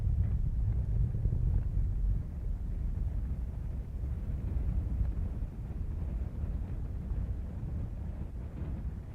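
A SpaceX Falcon 9 rocket with nine Merlin engines, launching from Florida's Space Coast, gives off a deep, steady low rumble heard from a distance, continuous and buffeted like wind, with no talking.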